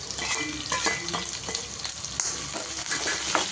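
Chopped onion and green chillies fry in hot oil with a close, continuous crackling sizzle and occasional stirring clicks, and no voices.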